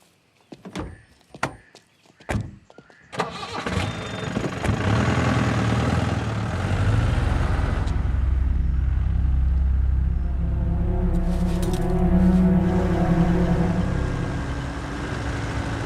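A car engine starts after a few door and handling clunks, then settles into a steady, loud idling rumble that runs to the end without talk.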